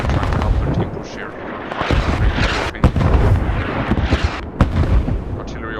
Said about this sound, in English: Artillery also coming down.